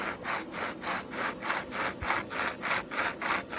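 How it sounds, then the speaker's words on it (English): Firewood cut with a hand saw on a windy, rainy hiking trail, a steady rhythm of rasping strokes, about three per second, close and clear without voices. "These guys are processing firewood."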